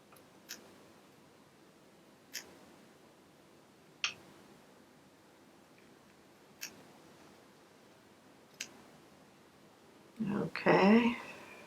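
Scissors snip embroidery threads just above the stabilizer on a Pfaff Creative Icon 2 embroidery project: five sharp, isolated cuts spaced a couple of seconds apart in a quiet room, followed by a brief burst of nearby talk.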